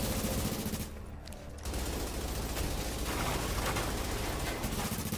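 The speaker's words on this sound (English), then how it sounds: "They're shooting my shield." Heavy automatic gunfire hammers against a shield in The Division, a dense, loud barrage of rapid shots that drops out briefly before resuming just as intensely.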